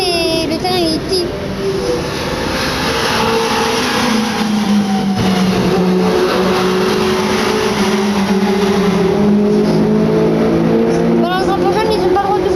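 Race cars roar past continuously during a street race on a tight city circuit, with engine tones rising and falling in a dense, loud wash and a voice speaking over it.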